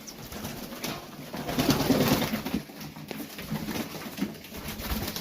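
Pigeons coo steadily in a backyard loft, a dense low murmur of overlapping calls that swells near the middle, with soft rustling of birds moving about and no talk.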